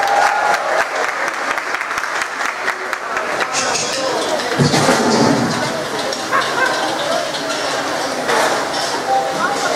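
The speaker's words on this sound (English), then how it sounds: "Could you give her a big round of applause," A crowd at a school career event claps loudly for an incoming guest speaker, a thick continuous roar of applause that swells midway, with voices and a few cheers mixed in throughout.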